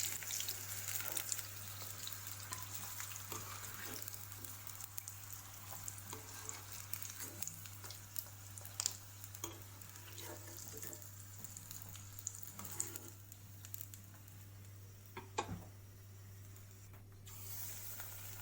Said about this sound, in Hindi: आप देख सकते हैं कि मैंने बाकी के भी फ्राई कर लिए हैं।